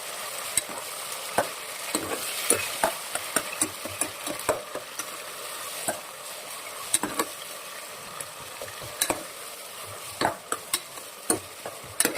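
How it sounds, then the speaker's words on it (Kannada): Chopped onion, tomato and chili fry in oil in a pan for palav, giving a steady close sizzle broken by frequent sharp scrapes and taps of the stirring spoon, with no talking. "ಹಚ್ಕೊಂಡಿರೋ ಈರುಳ್ಳಿ, ಟೊಮೊಟೊ, ಮೆಣಸಿನ್ಕಾಯಿ ಹಾಕ್ತಿದ್ದೀನಿ. ಸ್ವಲ್ಪ ಫ್ರೈ ಮಾಡ್ಕೊಳ್ಳೋದು."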